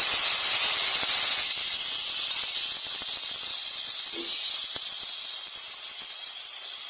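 Tomato and capsicum frying in a pan for garlic pasta, giving off a loud, steady hiss of sizzling oil that holds unbroken throughout, with only a few faint clicks beneath it.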